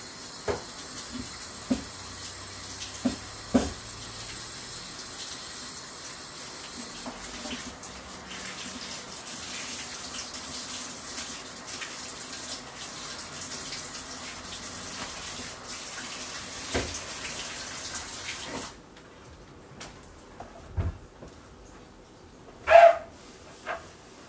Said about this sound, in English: going to give this a quick wash.